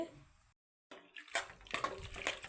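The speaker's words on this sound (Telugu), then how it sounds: "వేగిన తర్వాత కొద్దిగా వాటర్ వేసుకుందామండి." Water splashes into a pan of frying egg curry masala, a close, bright pouring rush that starts after a brief silence and continues steadily to the end.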